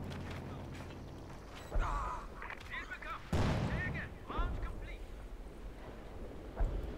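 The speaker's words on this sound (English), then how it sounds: "Bit of artillery going in here." Artillery fire in a Company of Heroes 2 1v1 match: a few heavy, booming blasts landing around two and three and a half seconds in, with another near the end, under steady commentary talk and game noise.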